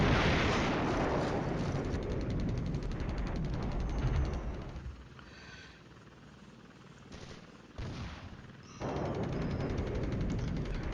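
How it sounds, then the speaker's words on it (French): Artillery fire strikes in the Flashpoint Campaigns Cold War wargame: rumbling explosive bursts, loud at first, fading into a quieter stretch, then swelling again in later blasts. "Là, son artillerie nous frappe."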